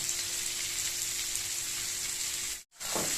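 Young jackfruit fries in a pan with a steady, close crackling sizzle that breaks off for a moment, then resumes.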